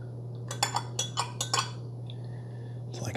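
A spoon clinks against the sides of a cup while stirring creamer into coffee, several quick bright taps in a short burst over a steady low hum, followed by a soft faint scrape.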